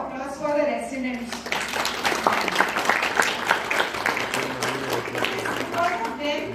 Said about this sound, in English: a big round of applause for the residents